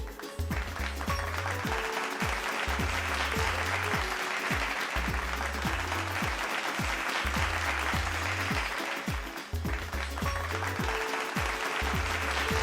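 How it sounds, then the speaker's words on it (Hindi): Sustained audience applause at the Dainik Jagran inext Covid Warrior Awards 2021 ceremony, a steady dense wash of clapping from a crowd with music under it, briefly dipping before continuing. "जोरदार ताली से स्वागत करते हैं"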